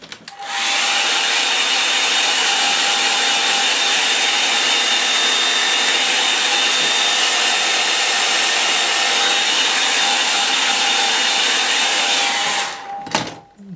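A hair dryer blows steadily on an ink and watercolour painting, a loud, constant whooshing whine with a faint tonal hum that runs unbroken for about twelve seconds before cutting off abruptly, with no voices.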